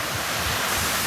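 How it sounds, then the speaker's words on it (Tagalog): Anzap Twin Falls in Tarlac pours with a continuous rushing, hissing roar of falling water, steady and fairly close, with no voices. "di siya ganun karami yung bagsak ng tubig na nanggagaling sa falls mismo"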